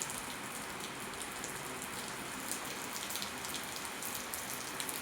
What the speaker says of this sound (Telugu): మేము లేసిన కాసేపటికే వర్షం ఎక్కువైపోయింది. అండ్ అది తగ్గుతూ పెరుగుతూ అలా పడుతుంది.